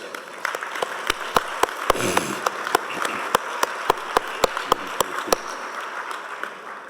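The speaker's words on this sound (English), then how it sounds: "Give yourself a round of applause." Sparse applause from a small group at an awards ceremony, a scattering of separate claps repeating at a steady pace for several seconds.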